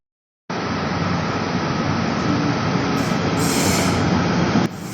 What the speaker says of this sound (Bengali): আর স্টেশনে আসার পরই ট্রেন চলে আসছে